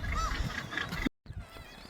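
Gannets at a seabird colony on the Bempton chalk cliffs at Flamborough give harsh, honking calls that overlap in a noisy chorus, fairly near but quiet overall, with a brief dropout midway.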